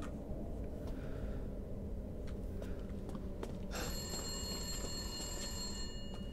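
A telephone in the video game Resident Evil Village starts ringing partway through, a bright trilling tone over a quiet, murky background with faint clicks before it.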